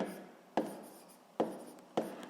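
Pen or pencil strokes writing out a sixth-grade maths solution on paper, three sharp scratchy onsets each trailing into softer rubbing, close and quiet with no talk.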